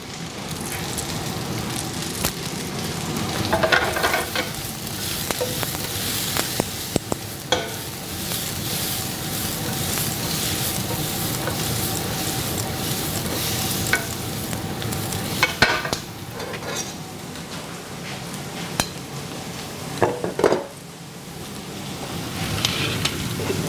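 Baby bok choy and mushrooms stir-fry in a hot pan, giving a loud steady sizzle with repeated scraping and clattering of a utensil stirring the vegetables, and a few sharper knocks throughout.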